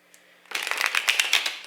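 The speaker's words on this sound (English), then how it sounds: "Let's get a good shuffle here." A deck of tarot cards being shuffled close up, a quick burst of crisp riffling and flapping lasting just over a second after a brief quiet start.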